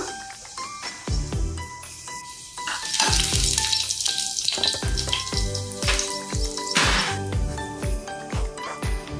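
Garlic and curry leaves frying in hot oil in a kadhai, a steady sizzle running under loud rhythmic background music with thumping beats.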